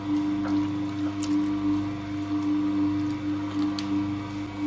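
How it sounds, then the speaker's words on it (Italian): A single-speed dough mixer kneads Neapolitan pizza dough, its motor giving a steady mechanical hum with a fixed drone and soft rhythmic churning throughout, with no talking. "questa impastatrice è monovelocità"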